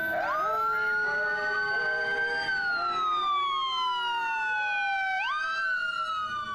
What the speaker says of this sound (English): Here comes the fire engine.